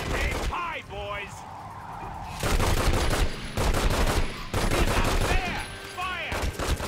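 Gunfire in The Godfather video game, bursts of shots cracking through a loud mix of game sound with voices heard over the shooting.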